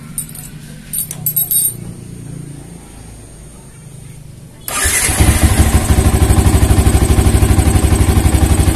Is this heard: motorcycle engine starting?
yes